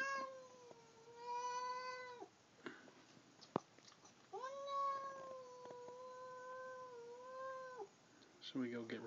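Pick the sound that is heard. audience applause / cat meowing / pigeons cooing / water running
cat meowing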